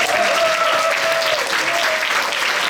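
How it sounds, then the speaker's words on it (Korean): Steady applause from an audience closing a school graduation project presentation, dense hand clapping throughout with a faint voice briefly audible over it. "우리 모두한테 박수를 치면서"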